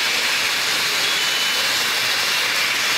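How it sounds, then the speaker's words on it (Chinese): A large pot of pork belly fries with a steady, loud broadband sizzle and hiss that holds evenly throughout, with no talking. "有这么一大锅煎肉"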